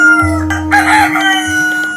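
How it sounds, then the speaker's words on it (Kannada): A rooster crows loudly and close up as a story sound effect, one drawn-out cock-a-doodle-doo with short clucking breaks, over a faint steady background tone. "ಪ್ರತಿದಿನ ಬೆಳಗ್ಗೆ ಆ ಹುಂಜ ಸರಿಯಾಗಿ 5 ಗಂಟೆಗೆ ಜೋರಾಗಿ ಕೂಗುತ್ತಿತ್ತು"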